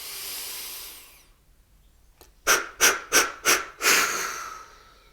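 A deep breathing exercise: a long airy exhale fades out, then after a pause comes a series of five sharp, strong breaths, loud and close, with no talking.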